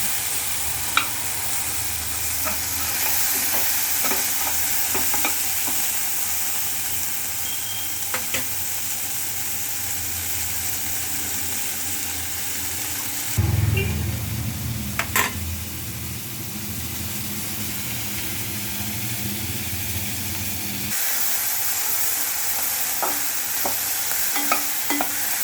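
Squid gravy ingredients sautéing in a pan, a steady close sizzle broken by occasional scrapes and clinks of stirring, with a louder, lower rumbling stretch midway and no talking.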